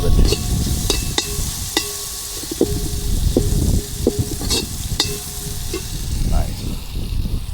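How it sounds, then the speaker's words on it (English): Curry base sautéing in a pot in an outdoor garden cooking setting, with steady sizzling and repeated scraping stir strokes clattering against the pot, fairly close and loud, no talking. "let that saute a little bit"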